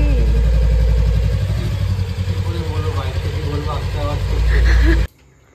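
A motorcycle engine idles close by with a steady, throbbing rumble, then cuts off abruptly near the end.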